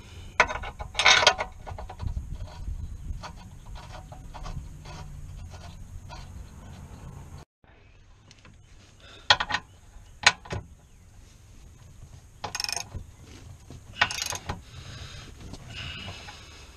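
Ratchet tightening control arm bolts under a Mazdaspeed 3, heard as sparse clicking bursts and bright metallic ticks over a low background hum with faint movement noises.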